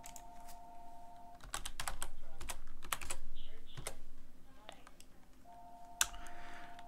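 Clicky computer keyboard typing on an Ubuntu-based Linux machine, with bursts of keystrokes up close and a faint steady tone in the background, without talk.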